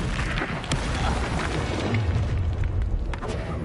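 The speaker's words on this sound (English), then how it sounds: "Accio. Incendio. Confringo." A Confringo fire-blast spell explodes in a Hogwarts Legacy duel, a dense booming burst rumbling steadily for several seconds, with no talk over it.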